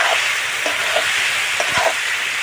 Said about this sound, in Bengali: ভালো করে কষাই নেবো, লাল লাল করে কষাই নেবো